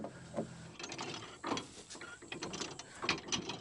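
A disc mower gearbox is turned by hand, giving faint clicking, ratcheting and clunking mechanical sounds in irregular bursts, close to the listener with no speech.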